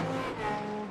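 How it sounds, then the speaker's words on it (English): Ford Mustang race car from the iRacing sim at Watkins Glen, its engine droning steadily and close up for a second, a dense harmonic roar with a slight dip midway and no voices. "it just sounded less throaty than I was expecting from a Ford Mustang"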